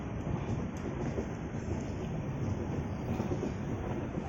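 Steady rumble and rattle of the Mandovi Express, a semi-express train on the Konkan Railway, running on the tracks, a continuous dense roar with faint rhythmic clatter, heard from inside the carriage.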